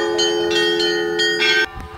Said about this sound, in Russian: В эти дни бить в колокола дозволено любому.